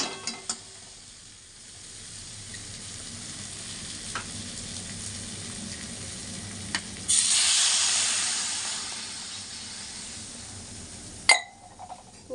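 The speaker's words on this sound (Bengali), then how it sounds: "এবারে আমি জল দিয়ে দেবো" Water poured into a hot pan of fried potatoes bursts into a loud, close hiss of steam that swells for a few seconds and then settles, following a steady background sizzle; no one speaks.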